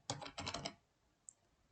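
A burst of quick keystrokes on a computer keyboard, then a brief pause and a single sharp key press like Enter, close and fairly quiet.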